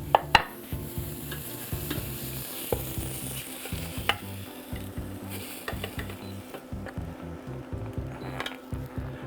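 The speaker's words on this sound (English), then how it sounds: "You're not cooking it through, you're just browning it, searing it" Beef chunks searing in olive oil in a stew pot give a close, steady sizzle, broken by frequent scraping and clacking of a utensil stirring against the pot.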